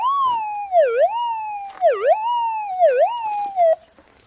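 A Minelab GPX 4500 metal detector with a Coiltek Elite 14 coil gives a clear, loud, wavering tone over a gold nugget in gravel and clay, its pitch dipping and rising about three times in a regular rhythm.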